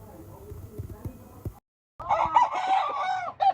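Gamefarm chickens cluck softly before a rooster lets out a loud, close crow after a short silence, the crow stretching over the last seconds while a person talks in the background.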